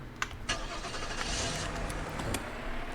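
A car engine starting in the video game Streamer Life Simulator, a short crank followed by a steady mid-pitched idle, fairly quiet with a few clicks at the start.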